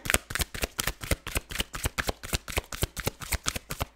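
Tarot cards being shuffled by hand, a fast even run of crisp riffling flicks repeating close up for several seconds with no talk.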